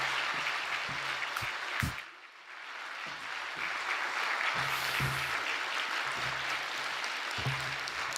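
A church congregation at a Friday evening service claps in welcome as a pastor comes forward, a dense, steady wash of applause that dips briefly midway and then carries on.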